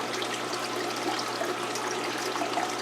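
Water pouring into the top of a native fish tank with crayfish: a steady dense rushing, splashing flow, close and constant.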